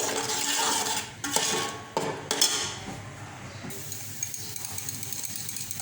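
Tomato paste and spices being stirred and fried in a pan for bhindi masala, with scraping and clinking of a utensil against the pot and a steady background hiss, no talking.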